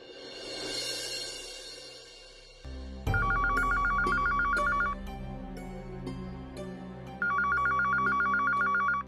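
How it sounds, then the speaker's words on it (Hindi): A telephone bell rings in two long bursts of rapid trilling, separated by a pause, over a steady background hum and faint music. "फोन वाजतोय केव्हाचा"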